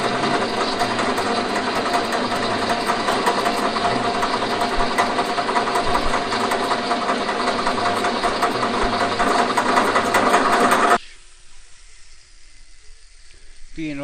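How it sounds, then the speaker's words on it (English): An angle grinder grinds off the end of a Victorian tricycle part in a home workshop, a loud steady high-pitched whine with harsh sizzling grit for about eleven seconds before cutting out abruptly to quiet room tone. "I use the angle grinder to grind off the end rather than parting it off or putting in the hacksaw"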